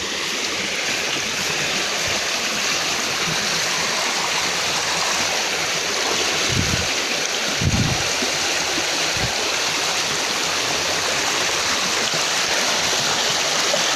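River water flowing steadily during a crossing, a constant broad rushing wash close by, with a few low thumps and splashes near the middle.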